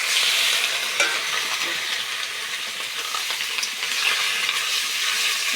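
Goat meat is stirred into fried onions in a hot pot, a continuous loud sizzle broken by scraping stir strokes, with no voices.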